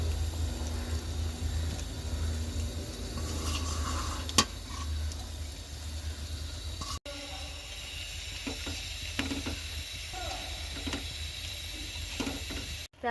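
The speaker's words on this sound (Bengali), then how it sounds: "ঝোল ভালোভাবে ফুটে গিয়েছে" A pan of cauliflower and shrimp curry bubbles and sizzles steadily, with a continuous crackling simmer and occasional clinks and scrapes of a utensil, close and fairly loud throughout.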